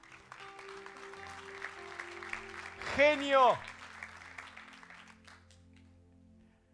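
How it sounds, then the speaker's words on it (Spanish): A congregation applauds a boy during a church sermon: a steady patter of clapping runs throughout, and a voice briefly rises above it in the middle before the clapping fades out. "Damos un aplauso a ese chico."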